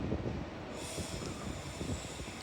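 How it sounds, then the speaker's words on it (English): An Avanti West Coast Class 390 Pendolino arriving at Carlisle station on the West Coast Main Line: a dense, steady rumble of wheels and rolling stock with faint squeal, heard from the platform. "Arriving in now is another Avanti West Coast Class 390 Pendolino, working a service to London Euston"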